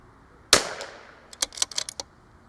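A precision rifle fires a single sharp crack at a target outdoors, followed a moment later by a scatter of faint clicks and metallic handling noises.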